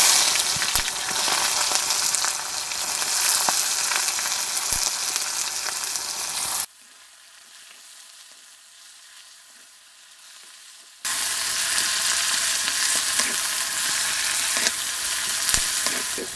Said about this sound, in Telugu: ముందుగా ఉల్లిపాయలు వేసుకుని వేయించుకుందామండి.